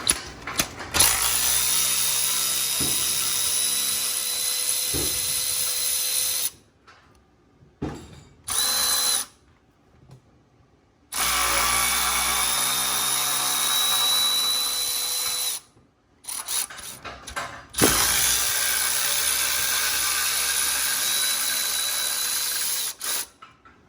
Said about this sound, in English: they're really easy to get to if you have an electric ratchet like this